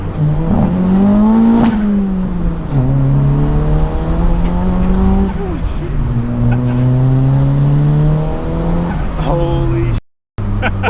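A modified Mitsubishi Lancer's engine revs hard and loud nearby, rising and falling in repeated sweeping pitches with tyre squeal. Excited voices speak over it, and it cuts off abruptly near the end.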